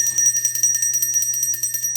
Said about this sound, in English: I'm going to ring a bell for you, Ashe.